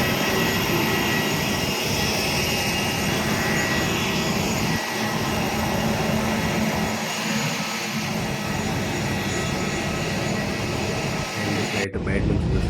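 SpiceJet airplane engines running at Shirdi airport, a loud, continuous roar that holds steady close by for the full stretch and then cuts off abruptly near the end.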